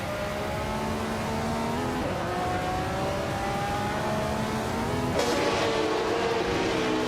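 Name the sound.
race cars in a racing video game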